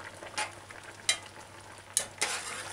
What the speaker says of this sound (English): Stir in occasionally, make sure it's not sticking too quick.